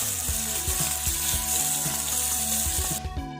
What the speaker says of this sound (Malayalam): ഇപ്പം നമ്മുടെ അടിപൊളി മത്തി ഫ്രൈ, ആ മത്തി വറുത്തത് ഇതാ റെഡി ആയിരിക്കുകയാണ്